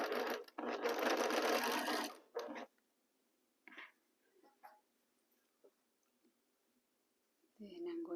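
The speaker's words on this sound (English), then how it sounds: "We are going to sew all the pieces, a 1/4 inch seam allowance." A sewing machine stitching quilt block pieces with a quarter-inch seam runs in a loud, close, steady whir for about two seconds, stops, then gives a short burst before quieter handling sounds, and starts again at the end.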